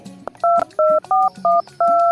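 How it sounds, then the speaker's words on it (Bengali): A telephone keypad dials a quick series of about six separate two-tone beeps, clear and close, with short gaps between presses and no talking. "একটা ফোন করি"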